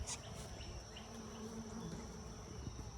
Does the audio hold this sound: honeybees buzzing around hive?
yes